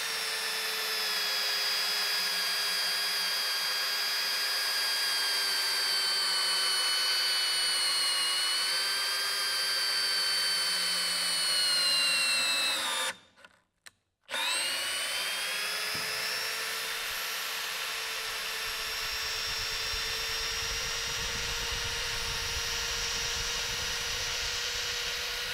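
A Bosch GSR 18V-90 C cordless drill drives a long fully threaded screw into wood, a sustained whining motor tone that drops and strains, cuts off briefly for about a second, then resumes and runs steadily.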